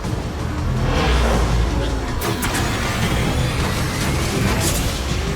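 A taxi car in Mass Effect 2 drives with a loud, steady roaring engine and rushing wind, a sharp thump partway through, and voices talking over it.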